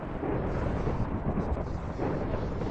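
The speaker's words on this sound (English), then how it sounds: "Lightning release goes back on. Explosion!" Explosion from a lightning-release jutsu in the Minecraft Naruto ShinobiCraft mod, a dense, steady rumbling blast lasting the whole moment at moderate loudness with no clear separate hits.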